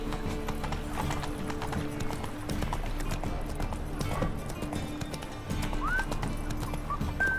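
Hoofbeats of the horse Roach galloping in The Witcher 3, a steady clip-clop rhythm over game music, with a neigh near the end.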